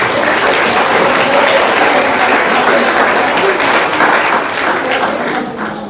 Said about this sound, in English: Nice round of applause for our coaches.